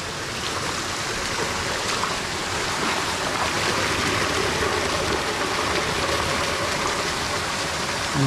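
Clear water in a mountain stream rushes loudly and continuously, a dense close-up gurgling wash that stays constant throughout with no talking.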